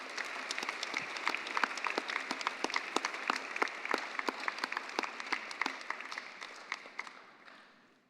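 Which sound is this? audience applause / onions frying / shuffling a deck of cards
audience applause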